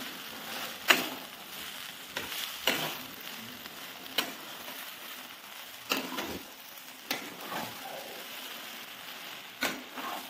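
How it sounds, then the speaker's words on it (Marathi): Vada pav potato filling is stirred and mixed in a pan, soft frying sizzle underneath a series of distinct scraping strokes spaced a second or two apart. "आता हे सगळं एकजीव करून घ्यायचं आपण."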